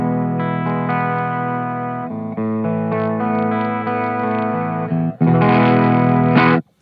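A Fano Omnis MG6 electric guitar with hot P90 pickups, played clean through a JRockett The Dude pedal: ringing chords and arpeggiated notes with a shimmering, effected tone, ending on a brighter strummed burst, close and without talk.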